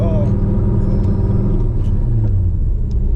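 A turbocharged Camaro's engine rumbles loud and steady from inside the car as it moves off, a constant low drone with occasional faint whistles above it, while people talk over the noise.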